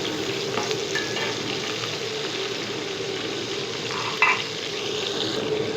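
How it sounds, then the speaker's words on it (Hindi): Chopped onions sizzle steadily in hot oil in a pan, a loud continuous frying crackle close by, with a brief stirring scrape near the end. "अब ये प्याज मैंने डाल दिए। ऑयल देखिए गरम हो चुका है हमारा।"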